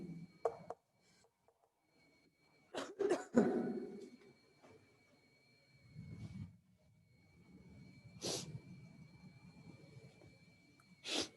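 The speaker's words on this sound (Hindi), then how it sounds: "बहुत खांसी उठ रही" A few harsh coughs and throat clearing burst out in a quiet room, with short pauses and breathing between them.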